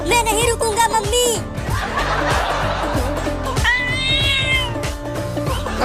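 A cartoon cat meows repeatedly in a Hindi children's animation, high drawn-out cries rising and falling over background music, with voices and laughter mixed in.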